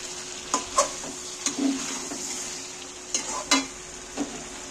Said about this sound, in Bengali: আলুগুলো মাংসের সাথে একটু কষিয়ে নিচ্ছি